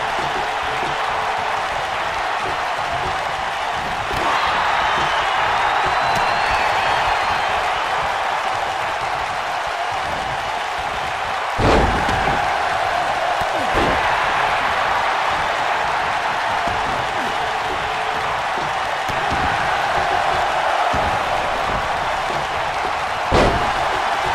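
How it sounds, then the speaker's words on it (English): In a wrestling video game, crowd noise hums steadily while heavy slams and stomps land on the ring, with several sharp thumps standing out over the din. "Listen to this crowd count the next one in."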